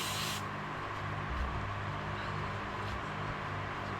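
Aerosol spray hisses onto a part of a 1976 Jeep CJ-7 during lift and seal work in a garage, a loud burst at the very start that cuts off quickly, leaving steady low workshop rumble.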